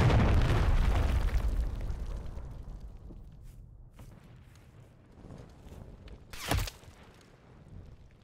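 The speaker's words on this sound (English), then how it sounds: "Hostiles launched a cruise missile." Cruise missile explosion in the video game Modern Warfare 3: a heavy rumbling boom at the start that slowly fades into a low roar, followed by a shorter sharp blast later.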